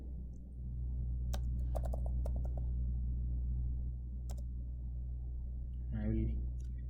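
Clusters of computer keyboard keystrokes while code is typed, short bursts of clicks in uneven rhythm over a steady low hum, a voice speaking in between.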